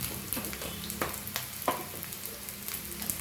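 Cumin powder sizzles softly in a pan of oil for a lamb and lentil curry, a low, constant frying hiss with scattered light scrapes and taps from stirring.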